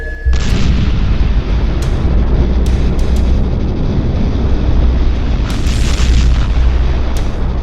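A Big Bang explosion sound effect roars as a continuous loud, low rumbling blast, with several sharper booming bursts punching through over about eight seconds and no speech.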